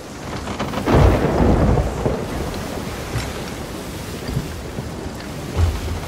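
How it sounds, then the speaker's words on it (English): Heavy rolling waves in stormy seas in the game Sea of Thieves, a deep surging roar that swells and crashes in repeated heaves, loud and close, with no voices. "Oh, mate. These are some big waves."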